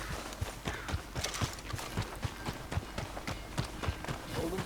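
Steady clip-clop of horse hooves at a running gait in the video game Red Dead Redemption 2, rhythmic and fairly close, with some background noise.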